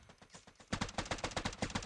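Automatic gunfire in a free Fortnite-like NFT mobile shooter game for Android, a rapid burst of evenly spaced shots that starts faintly, then turns louder and keeps rattling in a steady rhythm.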